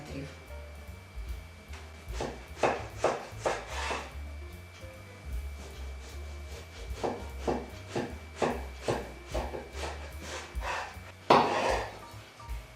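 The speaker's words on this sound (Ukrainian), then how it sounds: "Баклажан буду нарізати ось такими полосками, приблизно завширшки 5 мм." A knife slices an eggplant into thin strips on a wooden board, giving a series of crisp rhythmic cuts and scrapes in close, steady bursts while a person talks over them.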